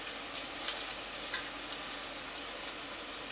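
Plantain slices deep frying in hot oil give off a continuous dense crackling sizzle with scattered sharper pops, steady and close, with no talking.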